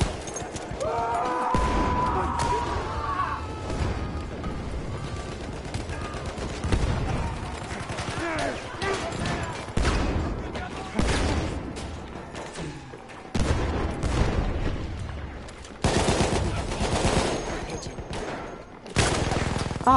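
Automatic gunfire in the Battlefield 1 multiplayer shooter, loud and close, with repeated bursts and volleys that keep cutting in and out over a busy battle din for the whole stretch.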